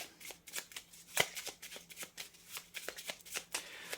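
Tarot oracle cards are shuffled and drawn by hand close to the microphone, with crisp riffling bursts, sharp flicks and soft slides in an irregular rhythm and no speech.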